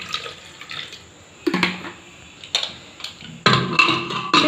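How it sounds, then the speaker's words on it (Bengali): Water poured into a pressure cooker in a home kitchen while cooking a capsicum dish, heard as several separate splashing bursts of pouring and trickling, close and moderately loud, with no talk. "প্রেসার কুকারের মধ্যে দিয়ে দেবো পরিমাণ মতো জল।"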